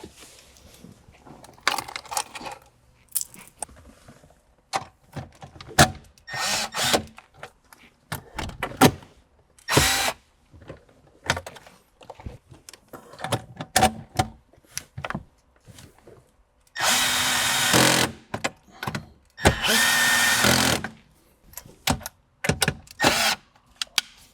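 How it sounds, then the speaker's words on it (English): A power drill drives 10mm bolts back into a Toyota Sienna in short bursts, two longer whirring runs standing out among scattered clicks and knocks of parts being handled nearby. "let's secure the 10mm bolts back in"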